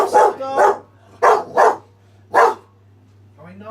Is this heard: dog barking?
yes